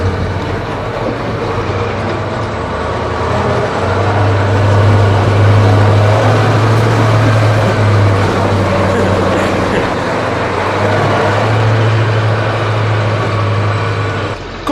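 An Ural 4320 6x6 expedition truck drives along, its engine giving a steady loud rumble with a low drone that swells and eases. Bouncing tires add a constant rattle and clatter throughout.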